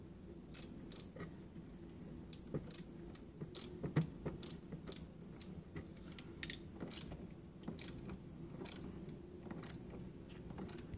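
A ratchet clicks in short bursts while tightening a Porsche battery terminal, with quick pawl ticks repeating close by over a faint background hum.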